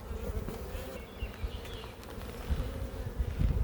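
Honeybees buzzing around an open hive frame that holds stored pollen, a steady close droning hum with passing louder swells and a few soft handling knocks, with no one talking.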